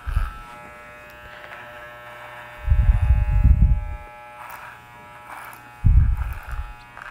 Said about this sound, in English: You can also piggyback the clipper to the comb, where the clipper follows the comb.